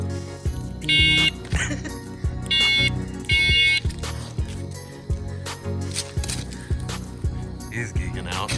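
An electronic horn on a 3-in-1 bicycle horn, light and phone holder unit gives short repeated shrill beeps in separated bursts, close by, with clicks and handling noise between them.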